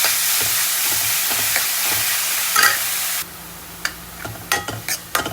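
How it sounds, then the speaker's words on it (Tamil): Chopped onion goes into hot oil with cumin seeds for a dhaba-style rajma masala, loud steady frying sizzle that drops after a few seconds, followed by scattered stirring clacks and spatters. "இப்போ வந்து ஜீரகம் நல்லா பொரிஞ்செடுத்து இந்த வெங்காயத்தை போடுறேன்"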